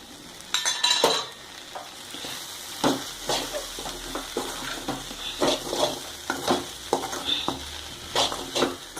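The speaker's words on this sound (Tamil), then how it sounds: "மல்லித்தழை சேர்த்து கிளறி அரைக்கிடலாம்." Okra stir-fry with grated coconut and coriander leaves is stirred in a pan, giving a soft sizzle and repeated scraping and clinks of the spoon against the pan.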